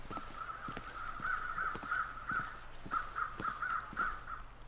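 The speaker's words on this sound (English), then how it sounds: "Oh, there are the crows." Crows cawing in the wintry wilderness of the survival game The Long Dark, a steady run of harsh caws in two bursts, moderately loud over a low ambient wind bed.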